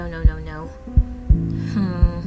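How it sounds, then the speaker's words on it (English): A heartbeat effect thumps four times at roughly even intervals, loud and close, over a low sustained hum and tonal music bed in an audio drama scene, with no voices. "I heard her heartbeat shot up"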